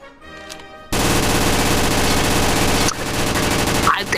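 Sustained rapid automatic gunfire from a gun in a VRChat game at a virtual shooting range, a dense loud burst lasting about two seconds, then further noisy firing and clatter.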